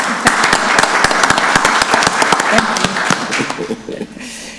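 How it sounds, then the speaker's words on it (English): Commissioners at a county board meeting clap together in a dense burst of applause lasting several seconds before it thins out. "give yourselves a round of applause"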